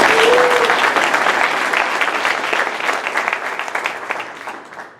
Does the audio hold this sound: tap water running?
no